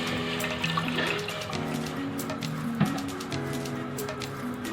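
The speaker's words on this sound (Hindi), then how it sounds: "प्रेशर में थोड़ा सा पानी डालें।" Water poured into a pressure cooker at home while making chicken mince and potato drumsticks, a continuous close trickling splash with kitchen clatter and no talk.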